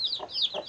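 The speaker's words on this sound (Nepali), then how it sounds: "चल्ला पनि रहेछ यहाँ चाहिँ।" Chickens and small chicks in a village yard give short clucks mixed with thin, high peeping, close by and brief.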